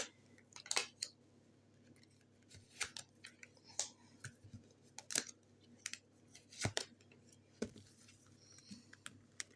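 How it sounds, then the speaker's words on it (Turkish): Three tarot cards are drawn from a deck, heard as a string of sharp, close card snaps and flicks with soft rustling between them, over a quiet low hum with no talking. "Çekelim şuradan 3 tane kart."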